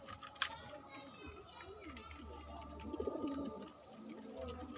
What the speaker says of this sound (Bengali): পায়রাগুলো খেতে থাকুক।